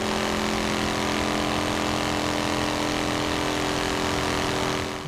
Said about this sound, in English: Engine doesn't sound very good, does it? Sounds a bit rough.